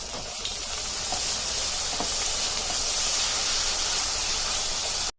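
Onions with salt and chili soften in hot oil in a pan, a steady, even sizzle and hiss held at constant level before cutting off abruptly.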